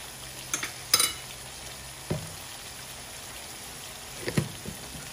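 A spoon stirs shrimp cooked in coconut milk with squash in a pot, making a few scattered scrapes and clinks over a faint bubbling simmer.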